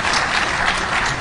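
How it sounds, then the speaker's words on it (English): A conference crowd at a Defcon hacking demo breaks into a brief, dense burst of applause, loud and continuous through the short moment with no talk over it. "Applause!"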